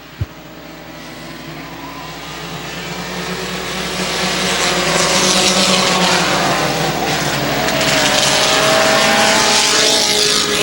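Dirt modified race cars roar around the Airborne Speedway track in Plattsburgh, New York, a loud, building wall of engine noise as the pack passes, with no talk.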